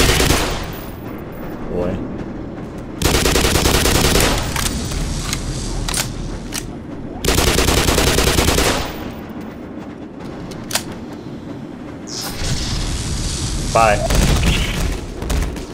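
Video game gunfire in loud bursts of rapid automatic shots, two long sustained volleys with scattered single shots between, under excited talk from players.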